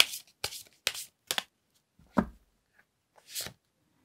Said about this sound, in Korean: 여러분을 위한 오라클 카드를 한번 또 뽑아보도록 할게요